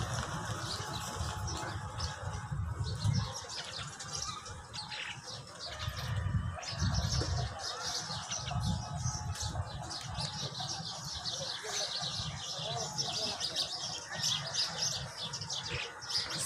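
Birds chirp and pigeons coo around a Venkatesh Balaji temple near Purandar fort, with a steady chorus of near and distant calls and occasional soft wing flaps.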